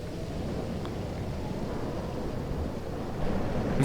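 Steady rain with low rumbling thunder in a stormy scene of the video game Life is Strange, a dense continuous wash that swells slightly toward the end, heard alone.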